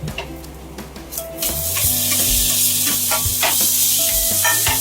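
Coriander, tomato, garlic and ginger roasting in oil in a pan for amti: a loud, close, steady sizzle with scraping stirring strokes, rising as ingredients hit the hot oil, with no talk.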